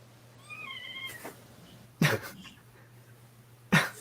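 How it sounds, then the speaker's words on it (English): Cats at play meow indoors, a thin rising meow followed by two sharp, loud close bursts of cat vocalisation over a low steady hum. "Yeah, my cats are playing."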